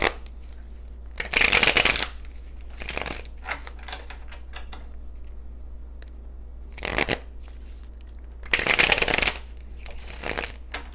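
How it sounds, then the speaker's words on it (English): Tarot cards being shuffled in several loud riffling bursts spaced across the span, each a dense crisp flutter, separated by quieter handling and a steady low hum. "I want to pull Tesra's tarot"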